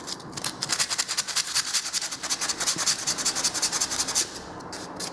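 Hand sanding of dried filler edges on a wall before painting: rapid, rhythmic back-and-forth scratchy strokes, close and fairly loud, continuing steadily with a brief pause near the end.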